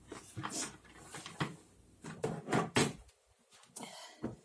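A creaky chair is shifted and swapped for another, giving a run of close, irregular wooden creaks and knocks with brief pauses between them.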